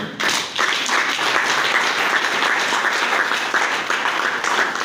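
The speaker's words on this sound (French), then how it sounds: "nous demandons à l'auguste assemblée d'applaudir pour la présence de notre cher directeur" An assembly at an education awareness meeting applauds the school director, a dense, even wash of hand clapping that holds for about five seconds with little speech.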